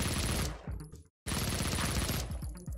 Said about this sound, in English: I won't lie, the submachine guns. Pretty satisfying.